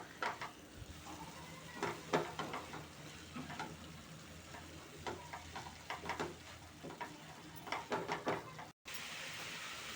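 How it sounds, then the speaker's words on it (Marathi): A spoon scraping and stirring a thick carrot barfi mixture in a pan, a quiet irregular series of scrapes with a faint sizzle beneath, close and soft, briefly cut off near the end. "आता हे सारखं परतत राहायचं पूर्ण गोळा होईपर्यंत परतायचं"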